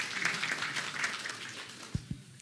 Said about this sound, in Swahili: Makofi kwa Gacheri getu.